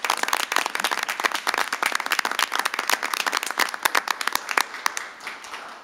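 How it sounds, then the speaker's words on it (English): A City Council meeting audience gives a round of applause for the Beautification Commission nominees: scattered, moderately quiet clapping with distinct individual claps, thinning out and fading near the end. "Gary, let's give them all a big round of applause"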